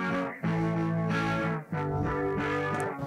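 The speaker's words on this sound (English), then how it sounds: "Then I added the rock preset from the amp analog, the amp audio effect from Ableton." Guitar tone pushed through Ableton's Amp effect on its rock preset, adding grit and distortion to sustained, chorused chords that change twice in a short phrase, with no voices.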